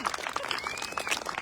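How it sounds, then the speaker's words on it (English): A crowd applauds outdoors at a VE Day beacon lighting at Coalhouse Fort, steady dense clapping filling the space for a moment, with a faint murmur of voices mixed in. "as the applause rings out"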